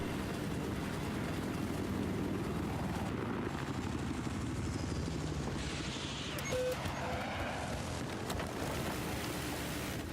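A helicopter in a Battlefield 4 tournament match gives a loud, steady rotor drone and engine roar that holds evenly throughout, with faint battle noise layered beneath.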